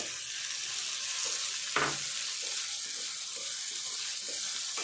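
Black-eyed peas fry in a pan for a potato curry, making an even, continuous hiss of sizzling with one brief knock partway through.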